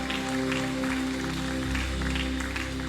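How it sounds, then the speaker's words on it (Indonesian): A church congregation claps during a worship service, a steady wash of applause mixed with sustained instrumental music underneath. "Tepuk tangan luar biasa untuk Tuhan kita"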